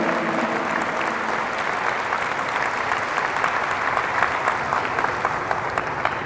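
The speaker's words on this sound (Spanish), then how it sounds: "Fuertes aplausos a nuestra Madre Santa," Sustained audience applause fills a church gathering, a dense, even wash of many hands clapping at steady volume throughout.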